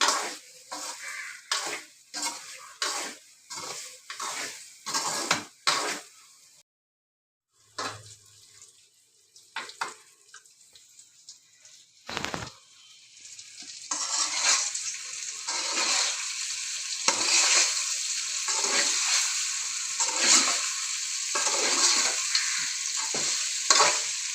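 A spicy chili mixture is stirred and fried in a pan at home, with repeated scraping strokes over a steady sizzle; after a brief pause the frying settles into a louder continuous hiss alone.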